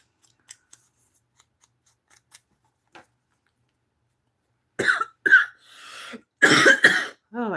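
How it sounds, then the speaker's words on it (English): A person coughing during a live craft stream, several sharp harsh coughs in quick succession close to the mic, preceded by faint scissor snips and quiet tapping. "Oh, I'm so sorry to be coughing like that"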